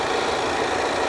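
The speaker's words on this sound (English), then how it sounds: "That's a little turbo 4." The turbocharged four-cylinder engine of a Ford Explorer with over 300,000 miles runs under the open hood, giving a brief steady, rough hum at close range.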